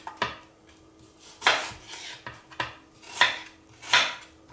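Knife chopping apples into small pieces on a board, several sharp rhythmic cuts about a second apart, close and clear with no talking.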